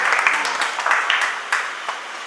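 Applause from a church congregation during a sermon, a steady wash of clapping lasting throughout with a few sharper individual claps standing out, moderately loud and fairly close.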